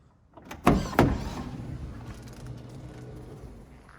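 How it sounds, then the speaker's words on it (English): A 2005 Toyota Voxy minivan's power sliding door runs with a mechanical whir and two sharp clunks early on, then a fading motor hum and rumble as it finishes. "It comes with two power sliding door."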